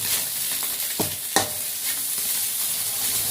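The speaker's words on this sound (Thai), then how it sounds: "เราซื้อปลาดุกย่างมาแล้วเราก็เอามาคั่ว" Store-bought grilled catfish is dry-roasted in a pan, with a continuous close sizzle and a couple of distinct scraping stirs of a utensil against the pan.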